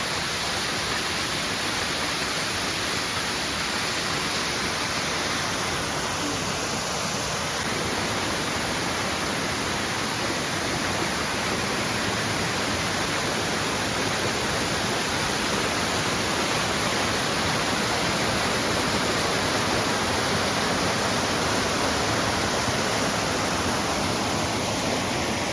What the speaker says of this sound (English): Here we are, Chilvers Waterfall.